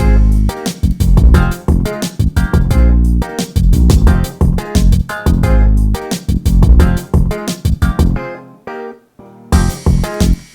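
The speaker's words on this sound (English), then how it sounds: "when we combine the grooves with these guitars and the drums, we get an overall really good, bouncy, funky sounding track" A bouncy funk beat built from punchy drums, grooves and choppy muted Strat guitar stabs plays loud and dense in tight rhythmic bursts, briefly thinning out before the full groove returns.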